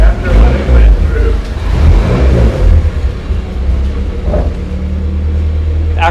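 A Honda Prelude with a newly fitted engine idles and runs steadily, a low rumble close by under people talking.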